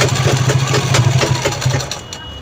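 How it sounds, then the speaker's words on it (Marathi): Sewing machine stitching a designer purse, a close, rapid mechanical whirring with a fast regular beat that slows and stops near the end. "शिलाई कंटिन्यू करून घ्यायची इथून."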